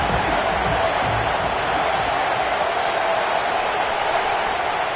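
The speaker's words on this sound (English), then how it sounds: "here comes the crowd noise" Dense, steady stadium crowd roar in an American football video game fills the whole stretch, a constant wash of many distant voices without clear pauses.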